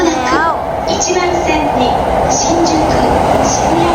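A train arrives near Mejiro Station in Tokyo at 8 pm, rumbling loudly nearby with a brief rising squeal, while someone talks over the steady noise of the rails.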